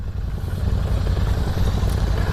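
Royal Enfield Shotgun 650 motorcycle engine running close by, a loud, steady low throb with a rapid pulsing beat throughout.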